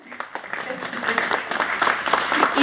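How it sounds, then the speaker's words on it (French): Applause rises from an audience at a Creole book fair in Montreal as a founder is introduced, steady clapping building gradually with a voice over it. "on peut l'applaudir."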